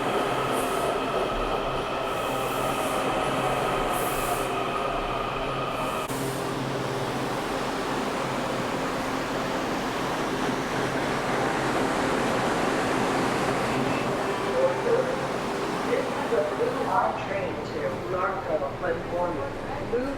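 Washington metro Blue Line train pulling into King Street–Old Town station, a loud steady rumble with wheel and brake squeals toward the end, people talking over it.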